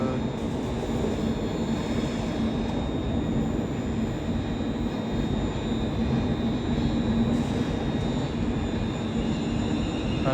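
A Class 380 electric train pulls out of Glasgow Central, its steady broadband rumble and faint high whine running loud and unbroken throughout, with no talking.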